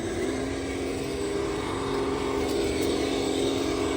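An RC crawler truck's electric motor drives at full lock, a continuous, moderately faint whine with a steady hum underneath that holds evenly throughout.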